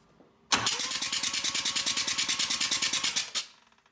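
Essex rotary engine cranking on the starter with both spark plugs removed, about three seconds of fast, evenly spaced chuffing pulses starting and stopping abruptly, loud and close.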